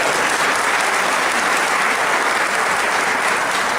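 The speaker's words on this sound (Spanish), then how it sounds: "un aplauso para todas las personas" A lecture audience breaks into loud, dense applause that holds at an even level from start to finish, with no voices rising above the clapping.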